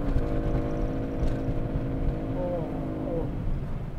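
A Japanese kaido-racer style modified car engine drones steadily close by, its low rumbling muffler note rising slightly in pitch as the revs climb toward 2,000–3,000 rpm, with no speech over it.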